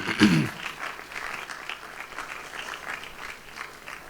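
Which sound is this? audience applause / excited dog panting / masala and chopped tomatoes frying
audience applause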